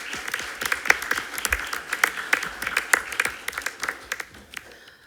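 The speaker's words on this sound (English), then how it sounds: "Can we give them a big round of applause as they come forward?" Applause at a board meeting as two people come forward, a modest gathering clapping in distinct uneven bursts that thin out toward the end.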